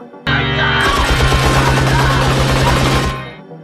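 Gunfire from a shootout on the steps of the New York County Supreme Court building in a Godfather film scene, a dense rapid burst of repeated shots over a low musical drone, loud and continuous for about three seconds before fading.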